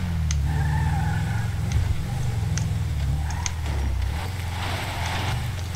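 Game vehicle in GTA 5 climbing a set of steps, its engine droning low and steady with tires scrabbling and squealing briefly for grip, plus a few sharp clicks and knocks, close and continuous throughout.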